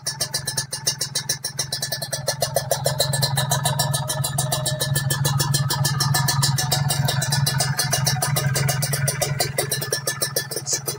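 Kawasaki Ninja two-stroke motorcycle engine with an aftermarket exhaust running close by, a smooth, steady, rapid exhaust buzz with slight rises in revs, loud and continuous with no voices.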